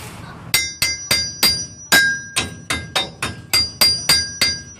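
A hammer strikes parts of a 1993 Toyota pickup's front torsion bar assembly, about a dozen sharp metallic blows in a steady rhythm, each ringing briefly before the next.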